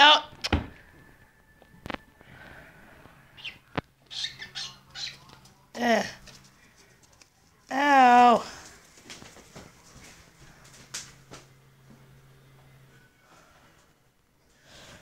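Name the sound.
pet bird in a hamster's cage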